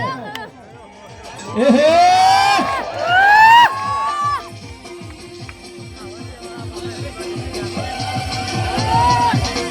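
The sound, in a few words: crowd applause and cheering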